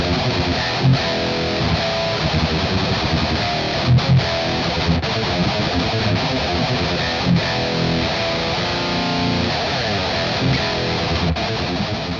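A distorted electric guitar plays a chugging, repeating riff, loud and steady with sharp accented hits throughout.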